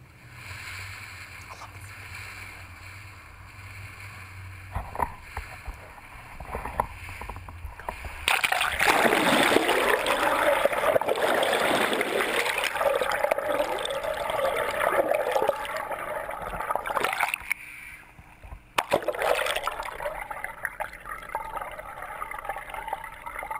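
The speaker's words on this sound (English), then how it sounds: "Take a look at this polar bear swimming video." A polar bear swimming, with steady loud water splashing and churning that rises after a quieter start, pauses briefly, then resumes.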